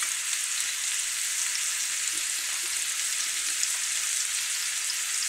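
An Oklahoma fried onion burger sizzles in a cast iron skillet, a steady close hiss of frying fat that holds evenly throughout with no pauses.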